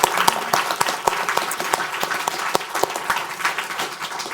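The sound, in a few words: audience applause after symposium speakers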